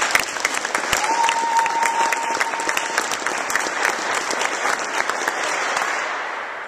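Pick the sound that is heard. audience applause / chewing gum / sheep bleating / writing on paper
audience applause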